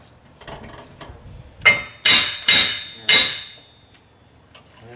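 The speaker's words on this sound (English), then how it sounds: "The rubber hammer? Or the metal hammer? The metal hammer." Four sharp metallic blows of a metal hammer striking a pin ring out one after another, each leaving a short bright ring, with a couple of lighter taps after.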